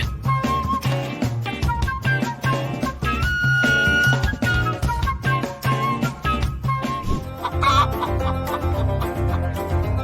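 Chickens cluck repeatedly in quick, choppy bursts, close and fairly loud, with a busy background of other noises.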